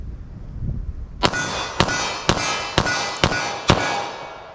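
Six sharp 9mm pistol shots from a 5-inch pistol firing 147 grain Winchester rounds ring out at an even, steady pace about half a second apart, each one loud and crisp, after a short quiet lead-in.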